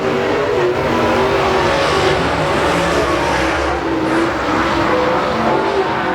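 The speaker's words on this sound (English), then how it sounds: "Lap 1 for Robbie Moore" A race car engine roars on the opening lap at Boot Hill Speedway, a dirt oval, as a loud, sustained, buzzing drone with shifting pitch that stays dense and near throughout, no speech over it.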